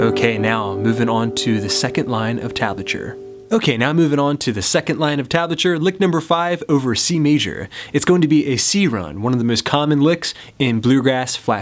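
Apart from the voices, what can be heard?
None of the usual background noises is heard.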